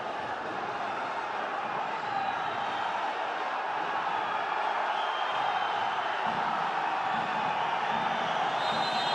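Spectators at an Asian championship wrestling arena roar in a steady, continuous wash of crowd noise, sustained and fairly even in level with no single voice standing out.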